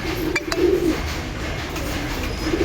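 Pet pigeons coo softly near their water dish, a low throaty burbling call standing out briefly over a steady background hum.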